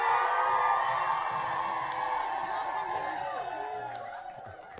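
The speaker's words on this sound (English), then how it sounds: "Big round of applause." Audience at a school quiz contest between two schools erupts in cheering and applause, with excited whoops and children shouting over one another. The crowd is loud at first and then slowly fades over about five seconds.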